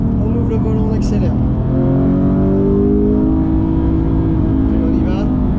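A Porsche GT3 Touring with a manual gearbox accelerating, its engine note climbing steadily in pitch, loud and close from inside the car, with a voice briefly audible over it.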